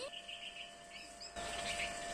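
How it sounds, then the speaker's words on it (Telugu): Faint high chirps from small birds, a few brief calls over a steady background hiss and hum. "అగో 2-3 పిచ్చుకల్ని పిలుచుకొచ్చింది."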